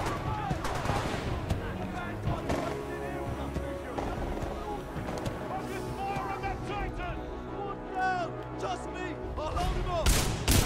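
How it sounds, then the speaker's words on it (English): Supporting gunfire in a Titanfall 2 boss battle against Kane: bursts of rapid automatic shots and heavy impacts mix with mechanical whirs and game dialogue, dense and loud throughout. "Commencing supporting fire."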